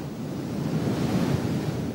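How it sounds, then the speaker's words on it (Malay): Small ocean waves break on the shore in a steady, continuous wash of surf, with wind noise mixed in and no voices. "Ombak kat laut tu bukan yang besar."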